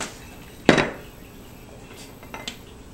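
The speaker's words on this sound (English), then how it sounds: "I'm going to do the flip and hope it stays in one tact." A flan is flipped out of its mould onto a plate, giving one sharp clatter of dish against dish, followed by a few faint light knocks in a quiet room.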